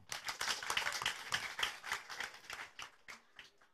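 A crowd at an outdoor political rally in Garut claps in a dense, continuous burst that gradually thins out and fades toward the end.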